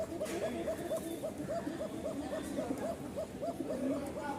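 A male pigeon offered for sale coos with a thin, high call in repeated rhythmic bursts, close and steady throughout.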